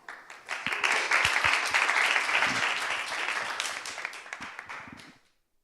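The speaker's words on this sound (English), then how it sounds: "A big applause for her" A crowd at an open mic night applauds for several seconds, steady and fairly loud, with a few sharper claps standing out before the clapping fades quickly to silence.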